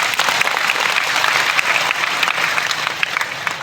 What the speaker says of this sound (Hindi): तो एक बार पुरजोर तालियों से उनका अभिनंदन करें